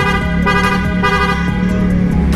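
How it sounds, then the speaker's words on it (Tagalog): A loud, sustained vehicle horn blares continuously, rich and brassy, with no pauses. "loud horn."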